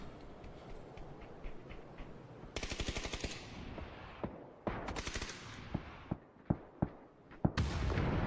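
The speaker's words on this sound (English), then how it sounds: "Penta getting shot in the back by What It Takes." Gunfire in a competitive video game match, with rapid automatic bursts, a long rattling string of shots and then sharp single shots spaced out, fairly close and fairly loud against a busy game background, with no clear talk.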